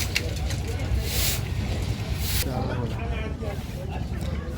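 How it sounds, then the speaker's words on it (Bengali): Passenger launch on a river journey from Galachipa launch ghat, giving a steady loud rumble of engine and water with wind gusts, and people talking throughout. "আপনাদের দেখানোর চেষ্টা করছি কেমন হয় লঞ্চ যাত্রা"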